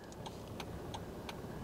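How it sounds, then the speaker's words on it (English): Turn signal on a Jeep Wrangler JK ticking in a steady, even rhythm, several crisp clicks close by against a low background hum, with no talking. "Okay, right turn signal."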